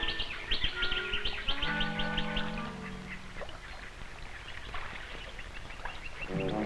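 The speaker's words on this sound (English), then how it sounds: "even the dingo is startled at the squabbling of the darters" Australian darters squabble on a billabong with harsh, overlapping chattering and croaking calls, fairly close and continuous over a steady background of other water birds.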